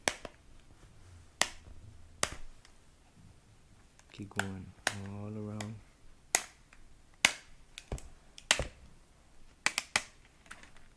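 Plastic back case of a Galaxy Tab 3 tablet being pried open, giving a string of sharp, isolated clicks and snaps spread unevenly, close up, with brief speech partway through.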